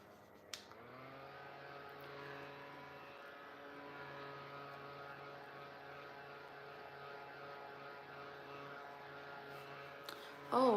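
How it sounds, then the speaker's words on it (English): A small handheld fan runs steadily with a constant tonal motor whine and airy hum for about ten seconds, close and even, ending with a brief knock. "So I'm gonna take my hand fan."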